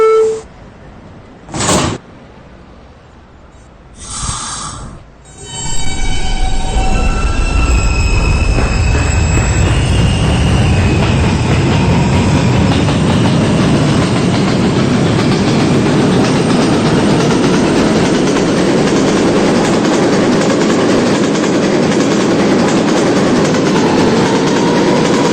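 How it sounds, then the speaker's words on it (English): An R160B New York subway D train picks up speed on the rails after a couple of brief chime tones, settling into a loud, steady rumble and roar that fills the rest of the ride. "This is the Cadillac bound D train."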